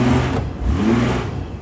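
A Chevy Blazer engine revs loud and close, rising and falling in two steady surges of throaty mid-range roar with no voices over it.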